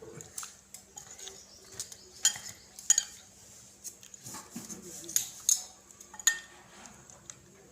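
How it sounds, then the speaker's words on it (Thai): A spoon scrapes and taps against a ceramic bowl and jar while fermented fish (pla ra) is scooped out, a series of short clinks under soft background voices and faint bird coos. "นี่แม่จ๋าก็ตักปลาลาในถ้วยนะครับ"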